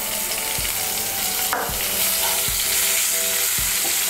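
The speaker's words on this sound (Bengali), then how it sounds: "পেঁয়াজটাকে হালকা একটু ভেজে নেব।" Chopped medium-sized onion frying in a pan for cabbage curry with egg makes a loud, continuous sizzle, with a few regular soft thumps and scrapes of stirring.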